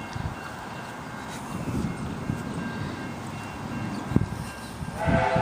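A train rolls through a level crossing, a steady low rumble of wheels and wagons at moderate distance with faint clanks, heard alone without talk.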